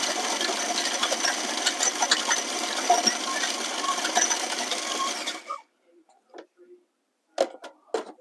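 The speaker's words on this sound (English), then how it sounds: "this food processor is getting old, I don't like to give it too long" An aging food processor chopping cranberries and apricots, a loud steady whirring buzz that runs for several seconds and stops abruptly, followed by a few faint clicks and knocks.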